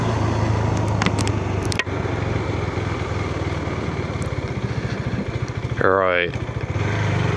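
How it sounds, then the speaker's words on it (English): A motorbike engine drones steadily as it rolls over a cattle grid, giving a fast series of rhythmic thumps and rattles near the end; a voice speaks briefly. "If you've never had to go over a cattle grid on a motorbike, then please be very careful when you do experience it"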